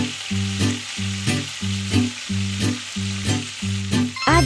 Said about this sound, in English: Stir-fry chopped garlic.